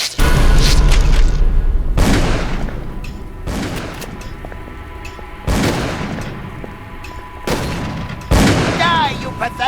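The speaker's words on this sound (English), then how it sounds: "Keep shooting!" Gunfire in the video game Call of Cthulhu: Dark Corners of the Earth, four heavy, booming shots spaced about two seconds apart, each trailing off into a rumbling echo.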